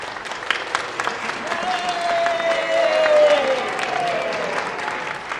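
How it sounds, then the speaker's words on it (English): Audience applause after a spring choir concert by a retirement community's singers, a sustained wash of clapping with a sung or held tone rising through the middle and some crowd murmur. "Your generous applause is our greatest reward."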